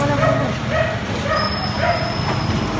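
A dog barks and yips somewhere along an outdoor street, short repeated calls sitting under steady traffic and crowd noise, with no voices close by.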